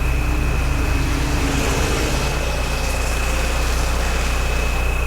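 The TDI diesel swapped into an old VW mail truck runs at a steady, loud idle, a continuous low rumble with a constant high whine on top and no voices.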